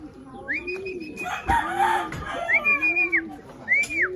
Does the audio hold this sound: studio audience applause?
no